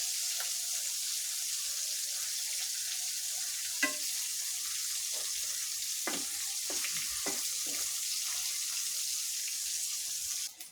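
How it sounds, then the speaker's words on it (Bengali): Fish fries in a pan on a kitchen stove, a steady close sizzle with a few brief clinks and scrapes of stirring. "মাছটা আমার ভাজা হয়ে গেছে। আমি চুলাটা অফ করে দিব এখন"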